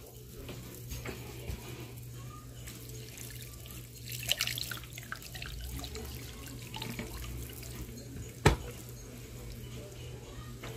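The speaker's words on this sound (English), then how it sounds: "We're going to go ahead and add the broth." Four cups of broth poured into an 8-quart crock pot for a Christmas dinner, a steady, soft liquid splashing and trickling that runs throughout, with a few louder clatters and faint voices in the background.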